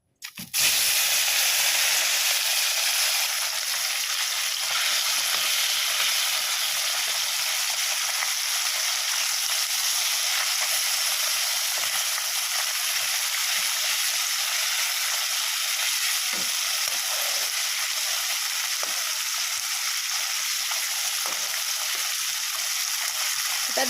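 Spice-coated fish fry in hot oil in a home kitchen, giving a loud, continuous sizzle close by for the whole stretch after a brief clatter at the start, with faint scattered crackles and no talking.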